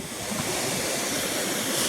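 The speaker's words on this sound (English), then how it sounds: "A man-made waterfall." Steady broadband rush of a man-made waterfall in Uwasekigata Park, Niigata, Japan, pouring continuously at close range with no voices over it.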